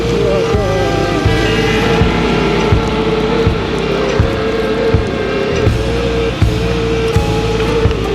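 A motorbike rides along a wet road after light rain near Muzaffarabad in the Neelum Valley, its engine droning steadily up close with wind and road noise underneath, while a rider talks over the ride.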